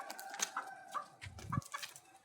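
Hens cluck faintly in short, scattered bursts, with a soft low thump partway through and light background noise.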